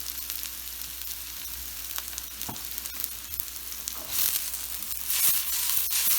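Chopped onions sizzle and fry in a hot pan as the base for fried rice, a steady crackle that gets louder and busier toward the end, with a few stirring scrapes along the way.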